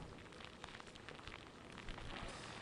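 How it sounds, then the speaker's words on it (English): Rain falls outdoors during a storm in Georgetown, a steady, faint hiss of drops spread evenly through the clip with no voices over it. "Brendan, Carolyn, the rain is certainly picking up since the last time we talked here in Georgetown"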